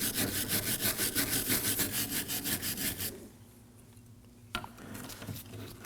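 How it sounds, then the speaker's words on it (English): A wire brush scrubs a front brake caliper bracket on a 2016–2020 Kia Sorento: fast, rhythmic back-and-forth rasping strokes for about three seconds, then quiet, with a single metallic clank. "We're gonna use a wire brush to clean up the areas where the tin foils go."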